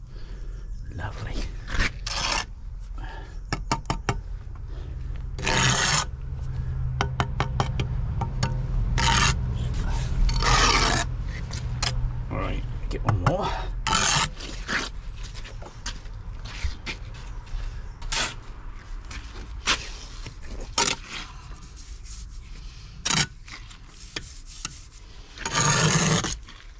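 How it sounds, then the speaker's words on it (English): A trowel scrapes excess mortar off face brickwork in repeated rasping strokes, close and fairly loud, with bursts of talk in between. "Notice how you scrape that, you don't get nothing on the brick."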